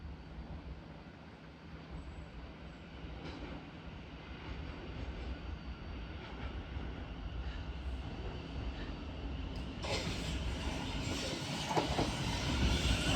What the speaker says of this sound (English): Soon to arrive in now will be the 10:39 Thameslink service from Bedford to Three Bridges